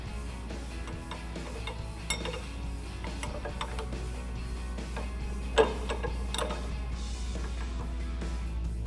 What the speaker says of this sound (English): to remove the top portion here on this nut, you're going to need an 18 mil crescent and a 6 millimeter Allen socket